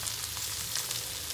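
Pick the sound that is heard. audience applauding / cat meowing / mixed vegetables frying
mixed vegetables frying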